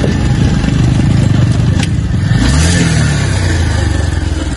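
A motorcycle engine revving through its silencer on a steep hill road, a loud continuous mechanical roar close by with a brief rise in pitch midway.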